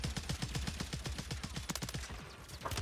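Rapid automatic gunfire in Warzone 3 on Rebirth Island, from an HRM 9 loadout, comes as a dense run of sharp, evenly spaced shots that carries through the whole moment with barely a pause.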